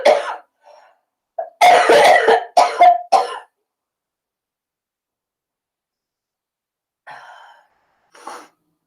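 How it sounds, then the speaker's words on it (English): A few harsh, close coughs come in a quick burst, followed by silence and then faint breathy throat sounds, with no talking. "Had to take a quick cough break."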